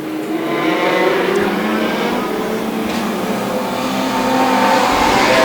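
Street stock race cars roar off at the start of a dirt-track heat race, a loud continuous wall of engines revving and accelerating together, with no speech over it.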